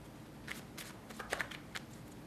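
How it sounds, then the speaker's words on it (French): A deck of playing cards is shuffled in a few quick, soft riffling bursts, faint and close, with no talk over it. "Je brasse les cartes."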